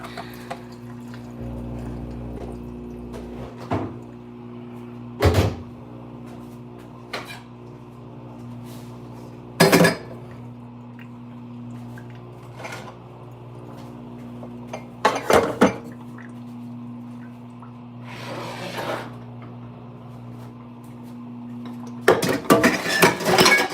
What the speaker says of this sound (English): Still about a load of dishes that still need to be done